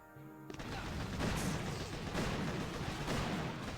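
Rocket launcher shots ring out in a shooter video game, a dense run of booming blasts and rumbling explosions that starts abruptly and stays loud and continuous throughout.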